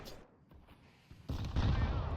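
Counter-Strike gunfire on the de_prodigy map, with a few faint shots and then a loud burst of close rifle fire as a player is hit.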